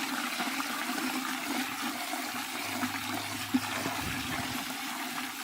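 Water pours and gushes steadily into a bucket of banana flour brew for flower food, a continuous close splashing flow that ends with a brief slosh.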